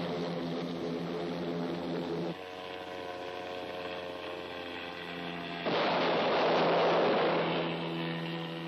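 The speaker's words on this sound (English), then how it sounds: "Here is an example of firing one from each of the two pods carried on this flight." An AH-56 Cheyenne helicopter in flight fires rockets, one from each of its two pods, heard as a steady engine and rotor drone that briefly thins and then swells into a loud broadband roar for the last few seconds.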